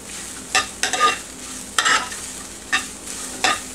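Porcini and portobello mushrooms with garlic frying in a pan get stirred in a few close, distinct scraping strokes spaced unevenly over a soft continuous sizzle, with no talking.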